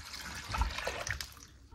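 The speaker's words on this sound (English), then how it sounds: "I'm gonna add some turkey broth" Turkey broth poured from a carton into a soup pot of onion for loaded baked potato soup, a short soft liquid splash and trickle heard close up with no talking.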